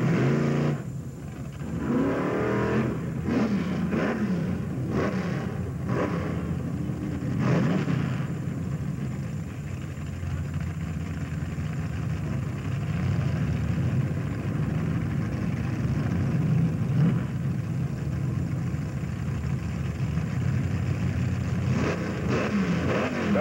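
A 396 Camaro and another car drag racing down the strip at Oyster Bed Speedway in 1987: engines roar and rise in pitch as they launch, then a sustained loud mechanical drone that fades and swells at a distance.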